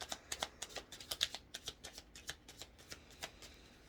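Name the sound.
shuffling tarot cards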